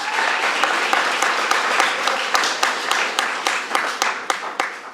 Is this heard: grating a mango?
no